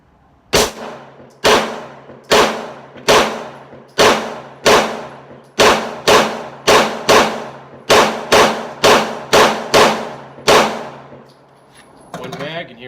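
Semi-auto pistol fired at a shooting range, about fifteen loud, close shots in a steady rhythm, each with a short ringing decay, followed by a brief rattle at the end.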